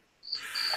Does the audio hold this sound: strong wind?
no